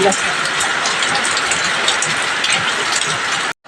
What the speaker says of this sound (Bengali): জোর বৃষ্টি এসে গেল